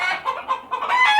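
Brahma chickens cluck on a farm in Kuwait, several close, loud bursts of clucking in quick succession with no talk.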